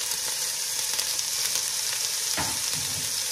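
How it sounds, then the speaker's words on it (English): Chopped onion hits hot oil with a loud, close, continuous sizzle for a taro root dish, with a brief scrape of stirring partway through. "add the onion in the hot oil, just like that"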